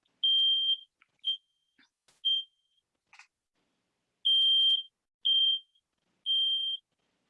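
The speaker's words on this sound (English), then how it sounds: "So this is the beep" Smoke alarm beep played from a fire safety app, five loud high-pitched electronic tones in an uneven sequence with short gaps, alone with a few faint clicks between.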